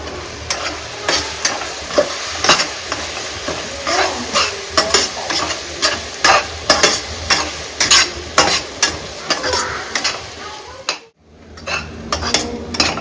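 Ground masala frying with golden-brown onions for a spicy Karnataka chicken gravy, stirred in steady repeated scrapes over a constant sizzle, with a short pause near the end before the stirring picks up again.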